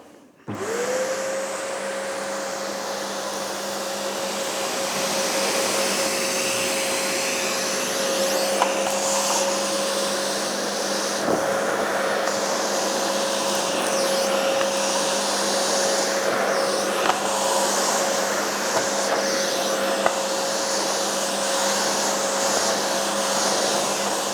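Vacmaster D8 vacuum cleaner picking up dust and dirt on a grooved tile floor, starting up and then holding a steady, loud whining drone throughout, with faint clicks and rattles of debris being sucked in.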